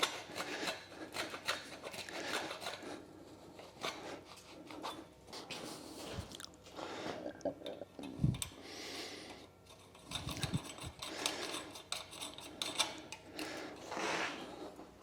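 The cut end of a steel conduit is being cleaned with a steady, faint rasping and scraping that runs continuously, with small irregular ticks scattered through it.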